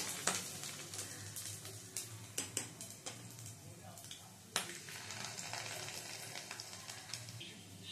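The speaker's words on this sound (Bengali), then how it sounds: "মাছের ডিমের বড়াগুলো লালচে করে ভেজে নিয়েছি" Fish roe fritters sizzle steadily in hot oil, a soft continuous frying hiss broken by occasional clicks and clatters of a spatula turning them in the pan.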